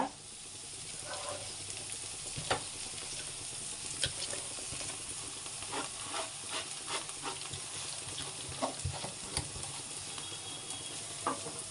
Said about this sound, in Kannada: ಇದನ್ನ ಸ್ವಲ್ಪ ಫ್ರೈ ಆಗೋಕ್ಕೆ ಬಿಡಬೇಕು